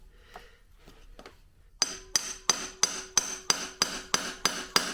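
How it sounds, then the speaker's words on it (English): An impact driver hammering at the stator base screws of a Honda XR70 engine, a run of about ten sharp, metallic rapid blows in a steady rhythm, close and loud after a few faint taps. "I'm going to use a big impact because I don't want to strip them out."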